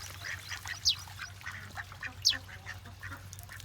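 Ducks swimming in freshly filled water give a few scattered quacks, with two sharper nasal calls standing out over low background hum.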